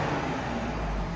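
A Ford Explorer ST with its stock muffler idles with a low, steady exhaust rumble, a deep, even drone with no revving, close and continuous.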